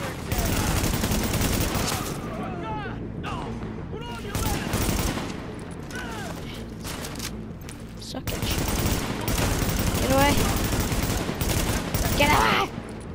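Heavy sustained gunfire in the shooter game Tom Clancy's The Division, dense bursts of shots and booming reports layered over one another, loud and nearly continuous across the whole stretch with little pause.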